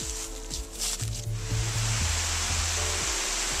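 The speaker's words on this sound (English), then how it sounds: "we just got that honey off in time because it's pouring rain now." Heavy pouring rain falling outdoors near a beehive after a honey harvest, a steady broad hiss filling the clip, with low rumbling and murmured tones beneath it.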